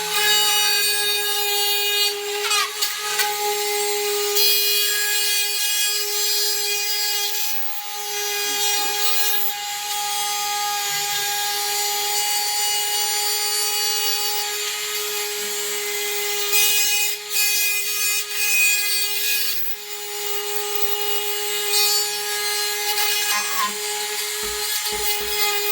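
Ryobi 18V speed saw rotary cutter (model P531) plunge-cutting into drywall beside an electrical box: a continuous high-pitched motor whine with grinding, rasping cutting noise, brief dips as pressure changes, no talking.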